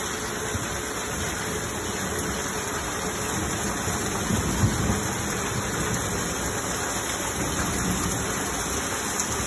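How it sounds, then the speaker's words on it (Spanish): Steady heavy rain pours without a break, a dense broadband hiss with a low rumble underneath, close and continuous throughout. "Está lloviendo muy fuerte."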